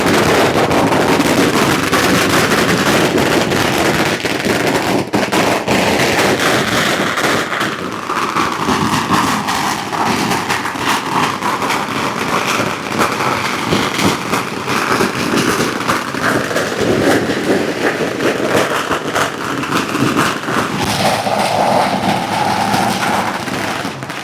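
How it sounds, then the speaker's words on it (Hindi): Firecrackers bursting continuously in Bhopal, Madhya Pradesh, during an election victory celebration, a dense loud barrage of crackling pops under heavy roaring wind-like noise, sustained throughout without clear pauses. "मध्य प्रदेश भोपाल में लगातार पटाखे फूट रहे हैं।"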